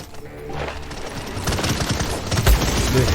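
Gunfire in the game Paladins: a quick rattling burst of shots builds over a few seconds, loud and close, with no talk.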